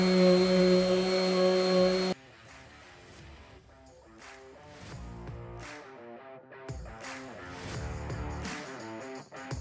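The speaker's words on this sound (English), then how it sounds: "we're gonna go sand it down through the grits, soften these corners up, get that black paint off" An electric sander works a wooden butcher block cutting board, stripping black paint and softening the corners. It gives a loud, steady whir for about two seconds, then stops abruptly and music takes over.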